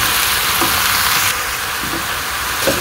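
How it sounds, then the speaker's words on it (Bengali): Vegetables fry with turmeric, chili and salt in a village kitchen pan, giving a steady loud sizzle throughout with a few soft stirring knocks. "এখন সবজিগুলো আমি ভালো করে কষিয়ে নিই"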